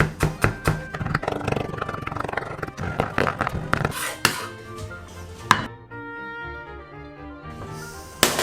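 Knife chopping garlic on a cutting board, a quick run of sharp, close taps in an uneven rhythm, then a pause with a few scattered knocks and a final tap.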